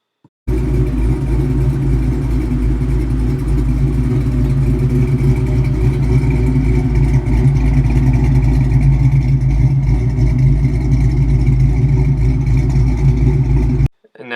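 A 2001 Ford Mustang GT V8 with upgraded cams runs steadily and loudly for about thirteen seconds, a deep, lopey rumble with no talk over it, cutting off abruptly at the end.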